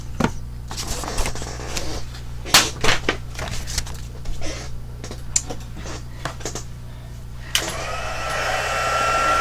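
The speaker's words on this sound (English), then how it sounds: "the heat gun is noisy" Handling and tapping sounds from craft work lead into a heat gun used for heat embossing leaves, which switches on near the end with a steady, loud blowing roar.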